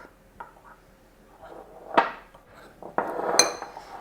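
A utensil clinks and scrapes against a bowl while mixing dry chocolate cake ingredients, including bicarb of soda and baking powder, in a few sharp, uneven knocks, with a louder clatter near the end.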